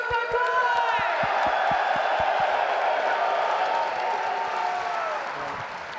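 Large arena crowd in Birmingham roaring and cheering for Toronto Koi at a Call of Duty League Major, a loud sustained wall of cheers with rhythmic clapping early on, fading slightly toward the end.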